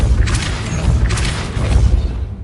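A Depulso spell is cast in Hogwarts Legacy, a loud close booming whoosh followed moments later by a second similar magical blast, each with a deep rumbling low end.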